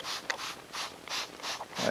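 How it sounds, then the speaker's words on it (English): A handheld spray bottle mists water onto watercolor paper in six quick, soft hissing bursts, evenly spaced and faint, each a short airy spritz. "So I can take a bottle of water with a spray"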